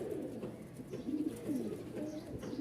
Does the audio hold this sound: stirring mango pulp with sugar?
no